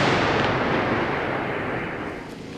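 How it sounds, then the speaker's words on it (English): A deep, heavy boom from a missile or drone strike on Kyiv rolls out, then a long rumbling decay fades slowly for a few seconds, loud and distant-sounding with no voices. "lighting up the sky with deadly missile and drone strikes"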